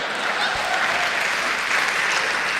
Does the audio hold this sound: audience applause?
yes